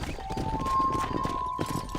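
Horse hooves clip-clopping at a quick gait in the Western video game Red Dead Redemption, a steady close rhythm of hoofbeats over a low rumble with a faint sustained tone, no talk.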